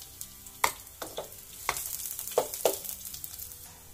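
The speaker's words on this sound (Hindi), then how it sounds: "तो ऑयल हमारा गर्म हो चुका है, इसमें ऐड कर देंगे हम हरी मिर्च।" Green chilies drop into hot oil for samosa stuffing, setting off several sharp sizzling bursts and spatters over a low continuous frying hiss, close and moderately loud.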